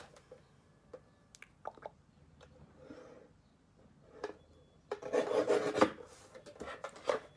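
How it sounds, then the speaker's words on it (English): A paper trimmer slicing cardstock on a crafting table, scattered scraping and rubbing touches followed by a denser, louder rasping cut pass near the end, close and fairly quiet with no talk. "now I'm going to grab my trimmer that I've just strewn across the table"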